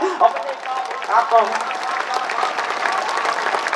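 Audience clapping at a Hindi poetry recital honouring a poet, rising after a few spoken words at the start and settling into a steady, fairly loud patter of many hands.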